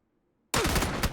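Sudden loud burst of rapid gunfire from the shooter game PUBG cuts in after near silence, a dense automatic volley with a couple of heavier spikes near the end.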